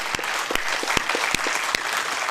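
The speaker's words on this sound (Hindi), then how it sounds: "आपकी तालियां कमजोर है मेरे भाई" A crowd at a Hindi comic poetry gathering (hasya kavi sammelan) applauds in a steady patter, with a few sharper individual claps standing out near the listener and no speech over it.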